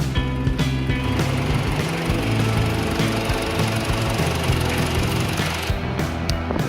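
Engine of a 2009 BMW 320i idling in its engine bay, a steady close mechanical hum with fine ticking and clatter, heard alone without any talk.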